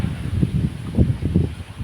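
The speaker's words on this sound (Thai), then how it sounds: "เสียงลม" Gusty wind buffeting and rustling, rising and falling in uneven low rushes close by, with no voices.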